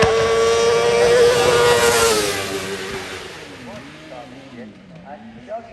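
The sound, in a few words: hill climb race car, Dougie Cann's car number 83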